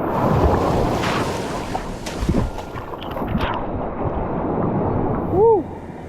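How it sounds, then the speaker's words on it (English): Strong wind blows across a tropical island beach, a steady roaring buffet of gusts and microphone rumble with surf in the background, and a brief bird call rising near the end. "Wind's pumping down this direction."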